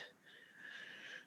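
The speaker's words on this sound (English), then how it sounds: "He's snoring right now." A sleeping dog snores with a thin, whistling wheeze, faint and steady for just over a second with no other sound over it.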